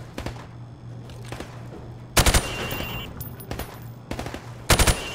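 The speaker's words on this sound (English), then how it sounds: "Now, shoot each target while aiming down the sights." Rifle gunfire at targets in Call of Duty Modern Warfare Remastered: sharp bursts of rapid shots in separate clusters, loud and close, with a low steady hum between volleys.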